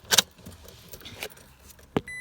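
Keys jangle sharply up close in the ignition of a 2018 Toyota Tacoma RWD, followed by a few faint clicks and a short electronic beep as the truck switches on without the engine starting.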